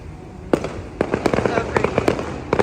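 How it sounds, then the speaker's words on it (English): Outdoor fireworks crackle and pop in a rapid, irregular series of sharp bursts, some louder and nearer than others, over faint background noise. "everybody doing fireworks all the time"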